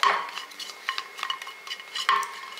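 Tamarind dry-roasting in an empty pan, stirred with a utensil that scrapes and taps the metal in irregular bursts, close and moderately loud, with only a faint sizzle.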